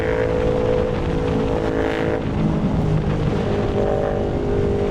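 A Ducati Monster 937 motorcycle rides through LA traffic with a loud, steady engine drone and heavy wind rush at the microphone, no voices.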